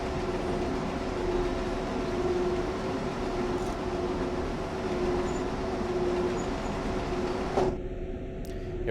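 A freight train in the Train Sim World game rumbles along in a steady, droning run with a constant engine hum and rail noise, loud and unbroken, ending with a faint clunk.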